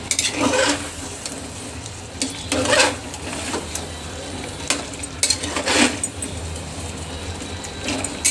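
Two garlic cloves dropped into a hot pan sizzle and fry with a steady crackle, broken by a few louder bursts and stirring or utensil scrapes, close by with no talking.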